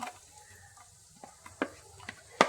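Chopped onion sautéing with crushed ginger and garlic in hot oil, a soft steady sizzle under a few sharp scrapes and taps of a spoon stirring the pan, the last one louder.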